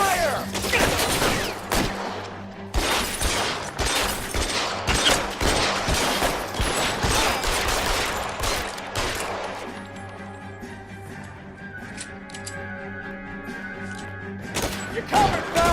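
Gunfire erupts in an L.A. Noire video game shootout, with dense rapid bursts of shots and impacts for several seconds, then the firing thins out under a lingering tonal game soundtrack, with a few final shots at the end.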